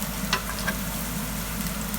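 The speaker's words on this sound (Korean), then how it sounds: "절대 기름이 바글바글 끓으면 안 되고 이렇게 보글보글 끓는 느낌" Butter and oil bubble gently in a frying pan as garlic browns before shrimp go in, a soft, even sizzle with a few faint crackles and no talking.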